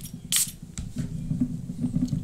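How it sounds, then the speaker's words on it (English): A fragrance bottle is pumped once, a short loud hissing spray near the start, followed by soft low handling sounds and rustling. "Let me give you a quick spray."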